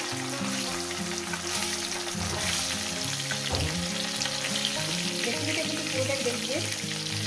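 Pieces of fish fry in hot oil for a spicy Bengali fish curry, giving a loud, steady crackling sizzle that runs throughout with a few stirring knocks and no talking.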